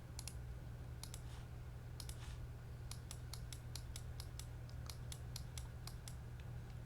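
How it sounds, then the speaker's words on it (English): Deck of playing cards for a solo Lord of the Rings card game being shuffled, faint crisp riffling clicks in quick bursts and runs over a low steady background hum. "We'll get the deck shuffled up"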